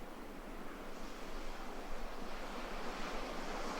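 Ocean surf at dawn in Bali rushes in a steady, dense wash of breaking waves with a slight wind-like hiss, close and continuous, with no voices.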